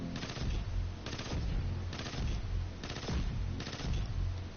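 Pulse rifle fire in Destiny 2: five evenly spaced, loud bursts of rapid shots, each burst lasting about half a second with a heavy low-end thump and sharp crack, no voices.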